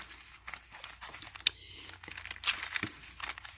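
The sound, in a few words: paper being crumpled and handled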